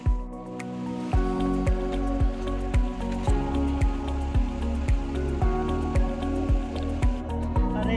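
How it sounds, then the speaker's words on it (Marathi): Spring water in a Konkan jungle dripping close by in a regular, unhurried rhythm, each heavy drop landing with a deep plop against a quiet background. "हे झऱ्याचं पाणी आहे आणि हे निसर्गाचं देणं आहे"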